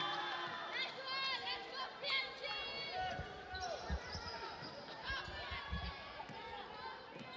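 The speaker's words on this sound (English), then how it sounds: "the crowd is buzzing right now" Crowd buzzing at a women's basketball game between Solomon Islands and Papua New Guinea, a steady murmur of chatter and calls with squeaking shoes and ball bounces close by, while a commentator talks over it.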